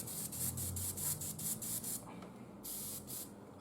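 An airbrush sprays paint onto an Imperial Knight model in a steady close hiss, broken by short pulsing bursts as the trigger eases, then stopping briefly before one more burst.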